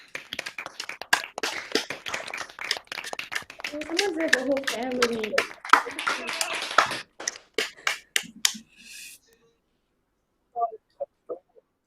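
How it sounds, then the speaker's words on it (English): Online graduates at a law and politics graduation ceremony unmute to clap and cheer, a ragged mix of separate claps, snaps and taps with voices mixed in, thinning to scattered claps, brief silence and a few final ones. "unmute yourselves and cheer and clap for each other"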